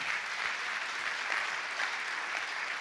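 A church congregation applauds steadily after a scripture reading, a dense, even wash of many hands clapping throughout, moderately distant and without individual claps standing out.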